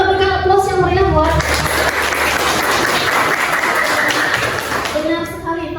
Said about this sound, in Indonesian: Kita berikan aplaus yang meriah buat